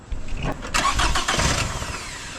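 A 2009 Toyota Camry engine cranks and fires up after an alternator and battery replacement, a short starter whir catching into a running idle, close and loud, with the engine settling steadily afterward.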